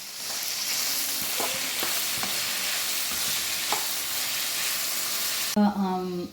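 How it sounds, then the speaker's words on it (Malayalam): Capsicum and mushrooms stirred and fried in oil in a pan for an Indian snack, giving a steady close sizzle with scraping stirs throughout and a brief clattering burst near the end; no talking. "അതിനോടൊപ്പം ക്യാപ്സിക്കം ഇടാം. നന്നായിട്ട് മിക്സ് ചെയ്യാം."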